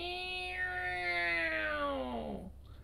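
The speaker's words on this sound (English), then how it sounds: "Meow! Meow! Meow!" Single long, drawn-out cat meow, close and clear, rising then sliding downward in pitch for about two and a half seconds before fading into quiet.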